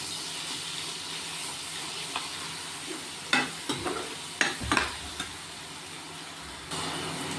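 Tomato, bay leaf and ginger-garlic paste frying in a pan for a Marathi moringa curry, giving a steady sizzle with a few sharper crackles and stirring clatters in the middle.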